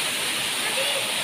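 A waterfall roaring as a steady, loud broadband rush of falling water, continuous throughout the brief moment.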